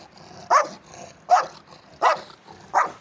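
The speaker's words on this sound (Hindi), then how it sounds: "ये कुत्ता है जी।" A dog barking at a fish farm, four evenly spaced single barks at close range over faint background noise.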